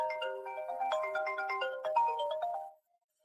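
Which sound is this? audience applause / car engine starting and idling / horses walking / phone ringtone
phone ringtone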